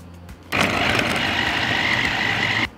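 An electric chopper motor whirs steadily for about two seconds as it minces pieces of onion, starting abruptly and cutting off cleanly, loud and close.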